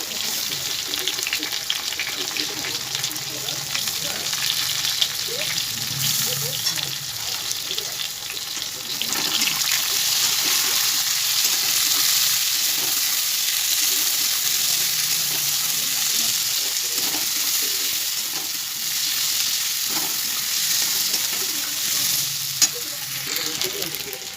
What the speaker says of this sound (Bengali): আলুগুলো ভাজা হয়ে গেছে, দিয়ে দেবো পেঁয়াজ।